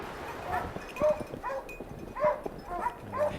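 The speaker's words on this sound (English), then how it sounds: "Sounds like the hounds have struck a hot trail." Several hunting hounds bay and bark in bursts on a trail, overlapping yelps and howls echoing at middle distance.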